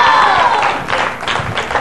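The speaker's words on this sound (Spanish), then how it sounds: "Ahora sí, aplaudan." Audience applause for a rondalla after a song: a dense, steady patter of clapping mixed with crowd noise, with the last musical tone fading out at the start.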